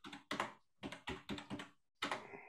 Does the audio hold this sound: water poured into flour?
no